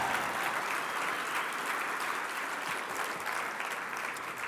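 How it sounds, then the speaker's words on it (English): Steady, dense applause fills the room at an LGBTQ Victory Fund 30th anniversary gala, a sustained wash of clapping from a large crowd that holds at an even level without a break. "Another round of applause for Victory Fund."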